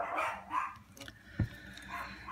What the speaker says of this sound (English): my dogs are going mental.